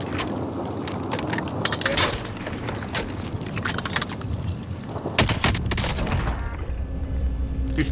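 Gunfire rings out in the video game Call of Duty: Modern Warfare, with scattered sharp shots and a few heavier bursts over a busy background of game noise, fairly close and loud.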